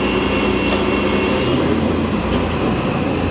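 A TRAX 1840SX CNC toolroom lathe with variable spindle speed hums and whines steadily at close range, a loud continuous machine drone with a faint high tone and no talking.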